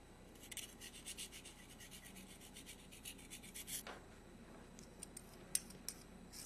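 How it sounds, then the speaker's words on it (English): A wet bead reamer files the inside of a bead hole, making quiet, fine scraping and rasping strokes in short repeated bursts, close up and with no talking. "File until the bead hole feels smooth, re-wetting the reamer and the bead from time to time."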